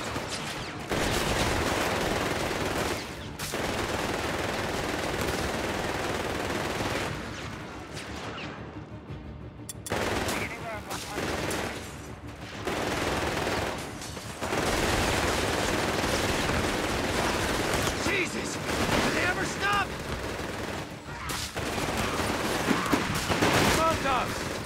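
Battlefield gunfire in the video game Company of Heroes 3, with Wehrmacht grenadiers in a 3vs3 match, a sustained loud barrage of rifle and machine-gun fire with explosions, briefly pausing and resuming, mixed with in-game shouted voices.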